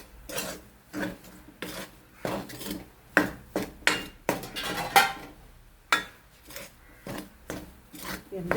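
A spoon is dragged hard and fast through mango chammanthi powder in a pan, producing a close series of harsh rasping, scraping strokes with clattering knocks against the metal, irregular and vigorous throughout.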